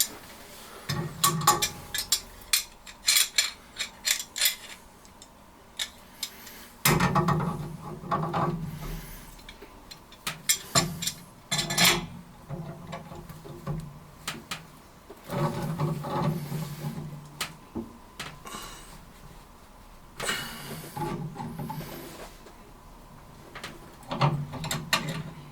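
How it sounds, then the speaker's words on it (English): Metal wrenches clank and ratchet intermittently while tightening a brass fitting on a water heater gas valve, close and moderate in level, in short bursts separated by pauses. "Once it's hand tight, go ahead and get your wrenches on there."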